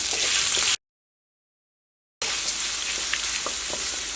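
Onions with chana dal and urad dal frying in a pan for a coconut-free chutney, giving a steady close sizzle that cuts out briefly to silence before resuming.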